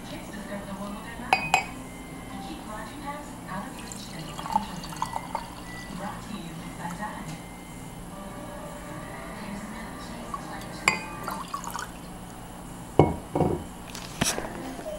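Moscato wine is poured from a bottle into a glass in a home kitchen, a soft steady liquid fill punctuated by glass and dish clinks, with light talking nearby.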